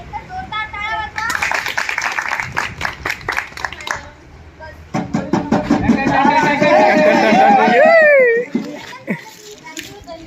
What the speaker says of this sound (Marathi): अभिनंदन करण्यासाठी एक जोरदार टाळ्या वाजवा.